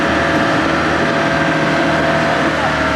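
A rusty narrowboat's engine, revved to push through weeds on the Great River Ouse, drones steadily and loudly with a low rumble and mechanical whine, holding a constant pitch throughout.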